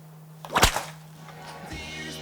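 A single sharp whip crack in Limburg, one loud snap near the start followed by quieter handling noise and a faint steady hum.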